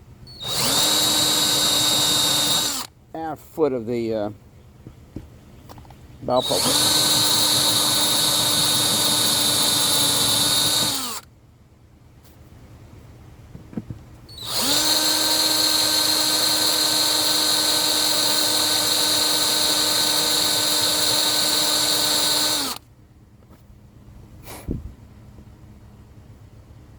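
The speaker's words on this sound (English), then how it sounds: "drilling into this solid epoxy is going to dull this drill bit a little bit" A power drill runs at high pitch boring holes into solid epoxy on a boat's starboard side, in three long bursts with pauses between, spinning up and winding down each time; a few words are spoken in a gap.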